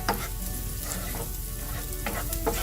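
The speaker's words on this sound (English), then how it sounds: "You can see the garlic cooking" Garlic frying on medium-low heat in a pan, with a dense continuous sizzle and soft scraping stir strokes close by.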